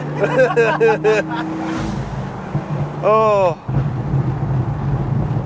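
A Lamborghini engine rumbles steadily beneath people talking nearby, with the low drone continuing throughout and rising briefly in the middle.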